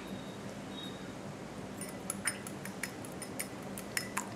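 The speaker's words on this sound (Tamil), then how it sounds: "ஒரு முட்டையை நம்ம நல்லா பீட் பண்ணி வச்சுப்போம்" An egg being beaten in a bowl with a utensil gives a quick run of light, clicking taps against the bowl, fairly faint and irregular, starting partway through over a quiet kitchen background.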